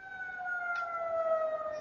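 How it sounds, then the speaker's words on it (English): Sirens wail outside, a steady, slowly descending pair of tones from a passing emergency vehicle, fairly loud and alone. "now that the sirens are gone"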